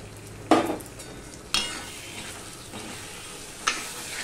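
Tomato puree poured into frying onion paste in a pan for a lotia fish curry, with three sharp stir or scrape strikes spaced about a second or two apart over a low, steady sizzle; nobody speaks.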